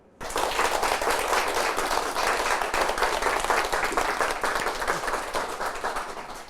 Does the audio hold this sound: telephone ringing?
no